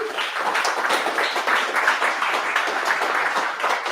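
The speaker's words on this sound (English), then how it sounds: "Round of applause for Tomas." An audience at an in-person serverless tech meetup claps steadily for a few seconds, a dense and even round of applause from a small crowd.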